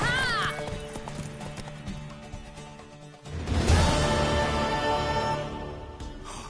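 Horse hooves clip-clop steadily in The Witcher 3: Wild Hunt, with a neigh near the start and a louder burst of galloping and movement midway, all close and prominent.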